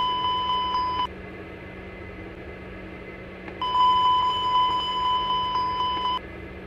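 A steady electronic alarm tone from a Dash 8 cockpit fire detection test sounds for about a second, stops, then sounds again for a few seconds over a low constant hum.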